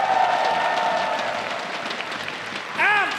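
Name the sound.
audience applause for cosplayers at esports event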